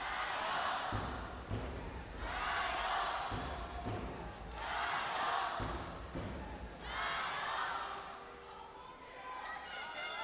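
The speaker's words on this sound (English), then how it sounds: "The cheering alive as ever in Game 3, as pivotal as ever." A large arena crowd at an LPL regional qualifier esports match, Top Esports versus Weibo Gaming in Game 3, chants and cheers in four loud rhythmic swells over a constant roar.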